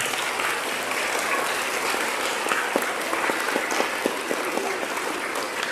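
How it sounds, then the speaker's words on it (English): A school graduation audience claps steadily for several seconds, a dense, even wash of applause from a full room with a few sharper individual claps standing out. "So please, a round of applause."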